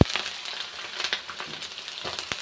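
Pointed gourd (potol) frying in onion and garlic paste in a pan, a close crackling sizzle with a few scrapes and taps of a spatula, brief and steady.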